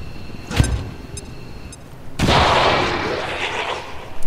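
Ambush gunfire erupts in XCOM 2 Long War 2, a few sharp single shots followed by a loud sustained burst of overlapping fire and blast rumble, close and heavy.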